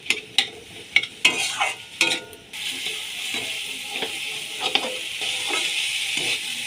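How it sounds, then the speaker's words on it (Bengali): Boiled potatoes sautéed in a hot pan, a few sharp scraping stirs with a utensil at first, then a continuous close sizzle of frying that carries on with occasional stirring clatter. "এবার এটাকে ভালো করে কষিয়ে নিতে হবে।"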